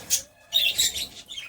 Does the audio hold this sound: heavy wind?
no